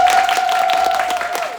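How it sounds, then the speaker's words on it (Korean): Short burst of dense audience clapping at a live talk show as a store manager is welcomed on stage, with a steady tone sustained beneath the applause. "임정아 점장님 큰 박수로 모시겠습니다."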